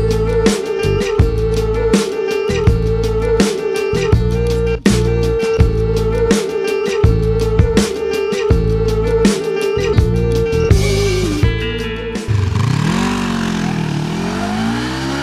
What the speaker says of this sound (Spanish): ya mismo comenzamos a probar a la nueva Vogue 500 AC. Una Naked de estilo neoclásica realmente digna de conocer.